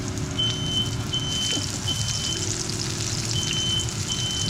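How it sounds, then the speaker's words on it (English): A home smoke alarm sounds off in a kitchen where oil has been overheated for frying, giving a string of thin, evenly spaced electronic beeps over a steady background sizzle, with no one talking. "That's my smoke alarm coming on."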